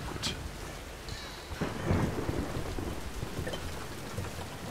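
A thunderstorm in Tomb Raider (2013) brings heavy rain hissing steadily on surfaces, broken by a rolling rumble of thunder that swells midway, with faint crackles on top and no voices.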